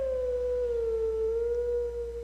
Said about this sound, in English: And here we have a Howling Stone.